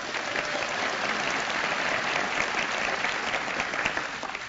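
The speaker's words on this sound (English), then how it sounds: "So give me short applause and I'll start again." An audience at a Toastmasters International conference gives a short burst of applause. The dense, even clapping fills the hall at a steady volume from start to finish.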